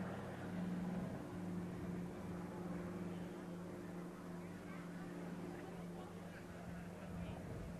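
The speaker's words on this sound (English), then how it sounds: "Beautiful sound of those Pratt & Whitney radial engines." Pratt & Whitney radial engines on an RAAF transport aircraft at an airshow give a faint, distant, steady droning hum that holds evenly throughout.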